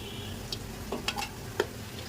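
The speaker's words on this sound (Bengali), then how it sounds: "এখন ভেজে নেব তেল গরম হয়ে গেছে" Soft crackling sizzle of oil frying bitter gourd leaf fritters, with a few scattered clicks and light scraping from stirring; no talking.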